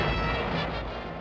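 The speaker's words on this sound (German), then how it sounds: "Schwere Artillerie" Heavy artillery fire from a 1944 Second World War battle on the Rhine front, a dense, continuous low rumble of gunfire filling the background with no speech over it.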